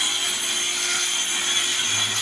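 A cutter slicing through pipe gives a steady, close, gritty sawing rasp that runs evenly without pause and with no voices.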